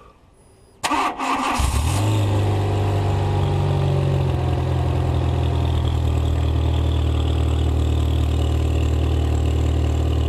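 A car engine turns over and catches after a brief quiet moment, then settles into a loud, steady idle that runs on close by without any voices.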